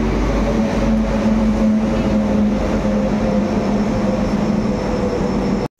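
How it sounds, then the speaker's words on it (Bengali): A Santragachi–Puri Rath Yatra special train pulls into a station at night, a steady, loud rumble with a low hum running throughout, heard alone without talk before cutting off at the end. "প্রায় 4 ঘন্টা ওয়েট করার পর ফাইনালি ট্রেন চলে এসছে"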